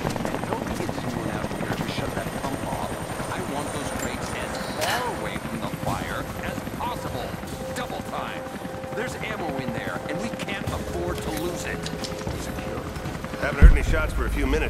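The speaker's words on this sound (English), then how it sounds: "That was Constantine's chopper." A helicopter's rotor beats in a steady low throb throughout a scene from the video game Rise of the Tomb Raider, with voices talking over it and a sudden thump near the end.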